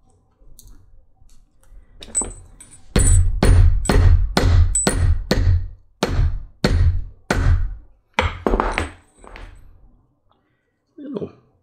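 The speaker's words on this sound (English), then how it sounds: "Gentle persuasion with the mallet, with the hammer." Mallet strikes on a leather case handle, about a dozen sharp close knocks in a steady rhythm that pause briefly and resume, with a short sound near the end.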